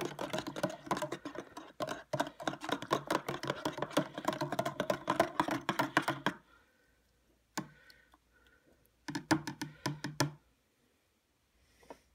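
Spoon clinking and tapping rapidly against a bowl while beef gravy mix is stirred into water for a beef stew, a dense run of close ticks for about six seconds, then scattered taps after a pause.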